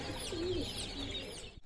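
A soft pigeon coo rises briefly against a busy outdoor background at dusk prayer time, followed by a fainter second coo and a sudden thump at the end.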